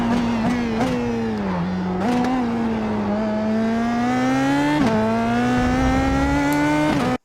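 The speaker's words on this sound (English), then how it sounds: "The car nicely accelerates away without any oversteer." A PM18 racing car drives out of a corner at Suzuka and accelerates hard, its engine note climbing steadily in pitch. It pauses briefly for several quick gear changes and stays loud and close throughout, with no voices.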